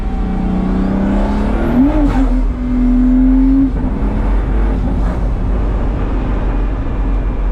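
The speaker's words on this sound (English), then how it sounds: "let's try accelerating in sport mode, seeing what that's like" Ferrari SP3 or Pagani Huayra accelerating hard in sport mode, a loud engine howl rising in pitch through a shift, then holding a high steady note before settling into a rumbling drone.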